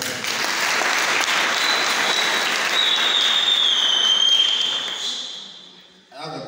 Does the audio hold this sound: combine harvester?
no